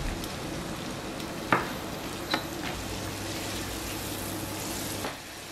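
Tomatoes cooking down in a pan with garlic, chili and bacon, giving a steady close sizzle with a few brief utensil knocks and scrapes, no one talking.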